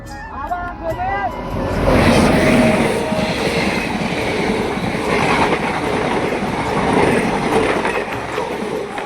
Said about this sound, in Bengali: সো গাইস এখন তো ট্রেন চলে আসলো